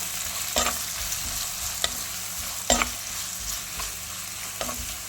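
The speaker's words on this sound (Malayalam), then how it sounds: "ഇതിലേക്ക് ഞാൻ നേരത്തെ എടുത്ത് വെച്ചിരുന്ന ഒരു പകുതി സവാളയും ഒരു തക്കാളിയും കൂടെ ചേർത്ത് നന്നായിട്ട് വഴറ്റിയെടുക്കാം" Half an onion and a tomato, with a pinch of salt, sauté in a pan for a Kerala-style kadala curry. A soft, steady sizzle runs throughout, punctuated by a few crisp clacks of a spoon stirring, and no voices.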